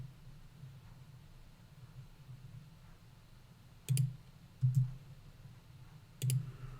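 Several sharp computer mouse clicks, about three or four spaced a second or so apart, sound close and quiet against a faint background hum while drawing a line in Xschem.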